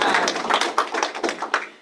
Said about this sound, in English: Can we give our speakers a little round of applause